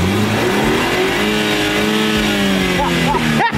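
A loud car engine with a stock exhaust revs and holds a throaty, rising drone close by, with a voice briefly heard near the end.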